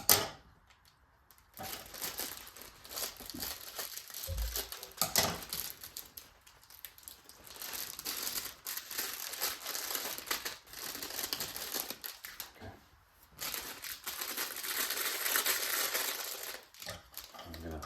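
Plastic bag of salad being cut open and handled, with bursts of crisp crinkling and rustling, brief pauses, and a soft thump, close to the mic.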